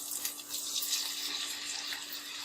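Water poured into a pan of lightly fried garlic and ginger while cooking a thin shing fish curry, giving a steady, close rushing hiss that fills the whole moment with no voices.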